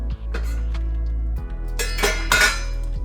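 A spoon stirs risotto in a pan, giving a few close clinks and scrapes against the metal, with two louder bursts of movement toward the end.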